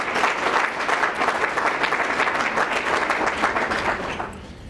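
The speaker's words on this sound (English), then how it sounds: "So can we have a round of applause real quick for K-12?" An audience at a school district's blended learning facility opening applauds steadily, dense and fairly loud clapping that holds for several seconds and then fades out.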